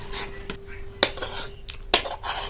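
Pot and utensils clink as a thick barfi sweet mixture is transferred into an oiled pan, with a few sharp metallic knocks and scrapes close by over a quiet kitchen background.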